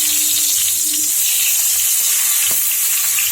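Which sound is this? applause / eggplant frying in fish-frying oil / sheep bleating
eggplant frying in fish-frying oil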